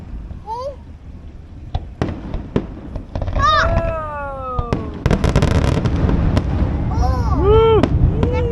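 A Fourth of July fireworks display bursts over a marina in front of a moored boat: sharp cracks and booms, rising whistles and crackling trails in quick succession, with people reacting nearby.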